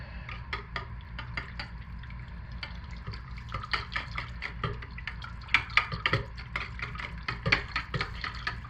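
Fragrance is stirred into rose quartz cold process soap batter, producing soft, wet, repeated scraping and sloshing strokes in an irregular rhythm, close and fairly quiet over a low background hum.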